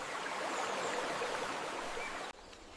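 A rainforest stream flows in a steady, broad wash of water noise, close and unbroken, dropping abruptly to a quieter level just before the end.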